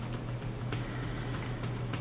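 Rapid clicking of keys typed on a USB computer keyboard, steady continuous taps close by with a faint low electrical hum underneath.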